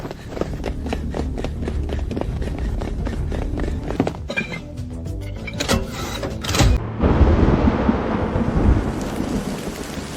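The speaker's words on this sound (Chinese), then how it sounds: "好，太好了，终于下雨了，终于下雨了，百姓有救了。" A thunderstorm breaks as rain starts to fall. Loud, crackling thunder strikes come in quick succession, then a steady hiss of heavy rain builds and fills the last few seconds.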